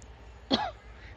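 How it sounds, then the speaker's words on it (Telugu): A single light throat clearing, a short raspy cough-like burst near the microphone in an otherwise quiet kitchen. "లైట్గా కాఫ్ అనేది వస్తుంది, ఎందుకో తెలీదు, కాఫ్ వస్తుంది."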